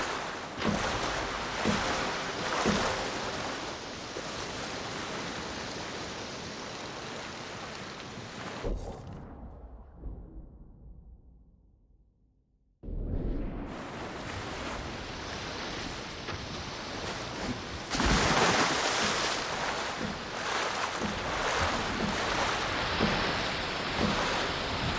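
Ocean waves wash and surge around a sandbar in the Ghost of Tsushima video game, a broad, steady roar with wind that drops away briefly in the middle before the surf returns loud and full.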